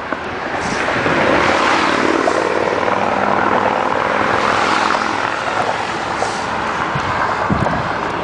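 A motorbike engine roars close by, a loud broadband rumble that swells and holds for several seconds, with wind noise over it and no talk.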